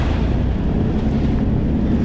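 Large ocean waves slosh around a small fishing boat at sea, with steady wind buffeting the microphone and a continuous low rumble of water throughout, with no voices.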